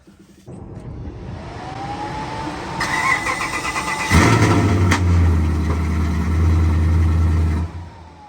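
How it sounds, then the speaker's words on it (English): A truck engine cranks and fires up, then revs hard with a sharp backfire pop before settling into a loud, deep, steady roar, close by with no talking. "I made it to do that, to backfire."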